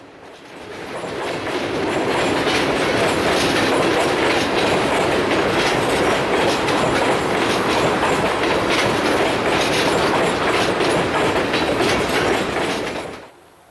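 A Canadian National freight train rolls steadily past with boxcars and gondolas, loud and close, with continuous wheel rumble and clickety-clack rising in over the first second and holding until an abrupt end.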